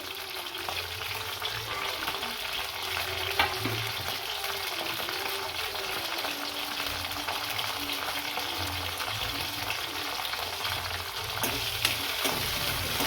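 Green chillies, ginger and onion sizzle in hot oil in a pan for tomato chutney, a continuous close frying hiss with occasional stirring scrapes and no talking.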